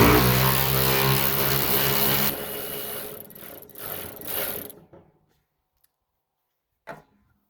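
Wrench ratcheting loose the hood hinge bracket bolts on a 1960s Massey Ferguson 135 tractor, a dense close whirring clatter for about two seconds, then scattered clicks and a short final knock.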